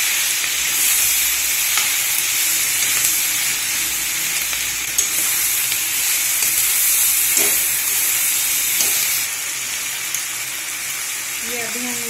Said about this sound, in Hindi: हम इसको फिर से एक बार मिला देंगे हल्दी और नमक डाल के।